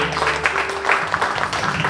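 A church congregation claps together in a brief, dense burst of applause that fills the room for a couple of seconds.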